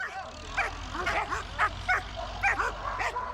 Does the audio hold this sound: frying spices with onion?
no